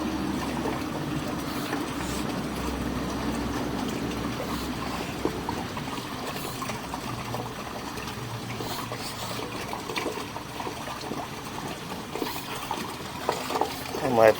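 Water runs continuously through a sewer riser drain pipe with roots growing inside, a steady rushing and gurgling wash heard close throughout.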